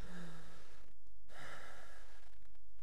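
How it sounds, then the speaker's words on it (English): Creature breathing in the horror video game Cry of Fear, a heavy ragged inhale and exhale repeated close up over a dark ambient drone, with no talking. "Why is there this breathing?"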